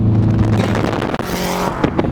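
A 2006 Subaru Hawkeye STI with a boxer engine runs loudly and steadily, its low rumbling drone continuous throughout with a brief dip in the middle.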